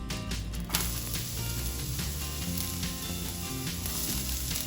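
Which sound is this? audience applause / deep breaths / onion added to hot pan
onion added to hot pan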